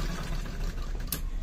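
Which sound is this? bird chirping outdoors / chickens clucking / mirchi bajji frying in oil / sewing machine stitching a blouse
sewing machine stitching a blouse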